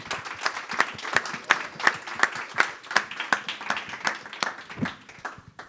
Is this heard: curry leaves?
no